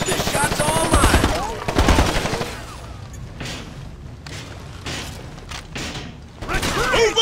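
Heavy gunfire from Ghost Recon Advanced Warfighter 2 rattles in close, loud automatic bursts at the start and end, with scattered single shots and impacts in the quieter middle stretch, and voices talking over the fighting.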